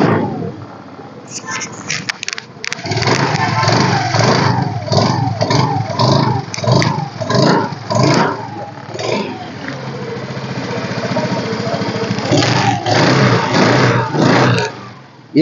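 A 2014 second-hand motorcycle at a Coimbatore used-bike market starts up and revs loudly, with repeated throttle bursts rising and falling close by before the engine settles and then revs again.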